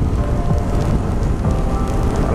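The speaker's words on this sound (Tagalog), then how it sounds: "umaambon, umuulan" Steady rain hisses and patters across the whole stretch, a dense broadband wash with gusts of wind mixed in and no voices.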